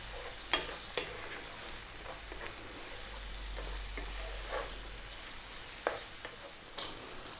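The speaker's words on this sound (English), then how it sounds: "I really want to cook this tomato paste out." Tomato paste frying over medium heat in a pan for a lamb and eggplant stew, a soft steady sizzle broken by several sharp scrapes and taps of a stirring utensil against the pan, with no talking.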